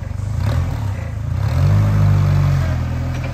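A 1-ton Toyota petrol pallet forklift engine chugs steadily and rises in a rumbling rev as it moves, close and loud with a low clattering idle, no talking.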